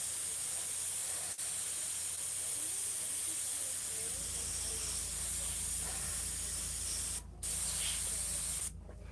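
Airbrush spraying paint gives a steady, close hiss that runs almost without a break, with a low hum and brief gaps near the end.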